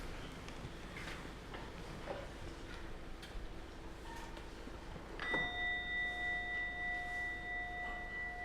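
A meditation bell struck once before guided practice, ringing out with a clear sharp onset after quiet ticking room sound, then a long sustained shimmering tone that slowly pulses as it decays.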